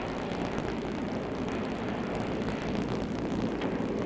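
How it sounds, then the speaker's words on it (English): Israeli military planes flying low over the Sinai desert, a continuous loud engine roar with wind noise that stays steady throughout and has no voices. "Israeli planes fly low over Sinai, cutting telephone wires."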